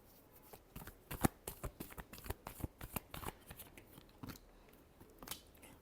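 Tarot cards are shuffled by hand in a run of quick, crisp riffling snaps, dense in the first half and thinning toward the end, close and fairly quiet with no talking.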